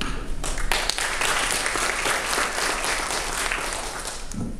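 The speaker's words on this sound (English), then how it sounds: "I love when people clap before I say anything." An audience at a policy briefing breaks into loud, dense applause of many hands clapping, sustained throughout and close.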